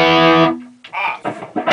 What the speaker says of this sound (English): Now let's kick on that distortion and we'll hear how that sounds.